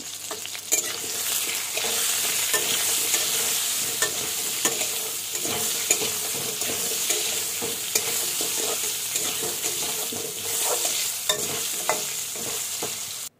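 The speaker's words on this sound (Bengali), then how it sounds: "লাল করে ভেজে নিব।" Spice paste and potatoes fry in a pan for a Bengali-style mutton curry, giving a continuous close sizzle with repeated scraping and stirring clicks throughout.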